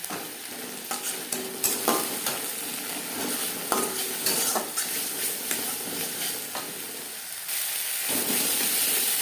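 Cauliflower paratha filling cooks with ginger paste, roasted coriander and cumin powder in a little oil in a pan over a medium flame, a spoon scraping in repeated strokes over a continuous close sizzle.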